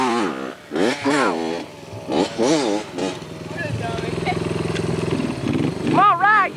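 Dirt bike engines revving in 1987 off-road riding among friends, a loud close whine rising and falling in repeated bursts while people shout over it.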